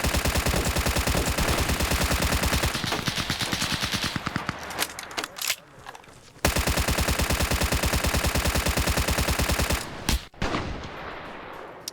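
Sustained rapid automatic gunfire during a convoy operation in a Rhodesian Campaign military sim, long dense machine-gun bursts that break off briefly, then resume at full intensity before tapering out, close and loud.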